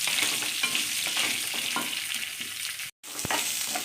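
Small onions and garlic fry in a pan, giving a close, continuous sizzle broken by light scraping stirs, with one abrupt brief dropout near the end and no talking.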